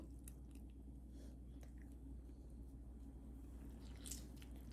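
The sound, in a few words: squeezing a large lemon by hand into carrot pickle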